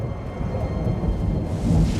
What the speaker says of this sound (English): Lightning storms rake across the blasted surface of this region.